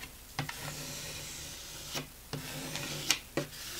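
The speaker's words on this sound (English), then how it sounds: "I'm going to go ahead and back and just scrape this down as well." Scattered, quiet scraping strokes of a tool drawn across vinyl on a wood sign, several short rasping passes separated by pauses with a faint hiss between them.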